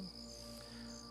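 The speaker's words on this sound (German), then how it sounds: "hörst du die Grillen?" Faint, steady high-pitched chirring of crickets in the video game Just Cause 3, continuous and distant over quiet background hum.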